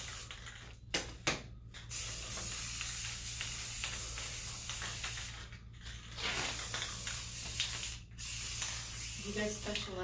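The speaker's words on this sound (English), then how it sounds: "careful with the spray, the overspray." Steady paint spraying with a continuous loud hiss during decorative faux wood-grain and marble finishing work, broken by a few short pauses, with people talking underneath.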